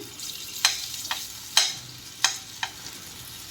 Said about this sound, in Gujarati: અને એની ઉપર આપણે આ પનીરને રોસ્ટ કરવા મૂકવાના છે